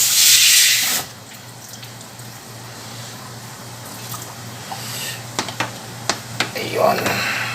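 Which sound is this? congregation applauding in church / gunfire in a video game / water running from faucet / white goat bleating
water running from faucet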